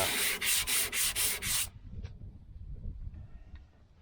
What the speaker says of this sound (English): Just sand it down real good, get all the roughness out of it.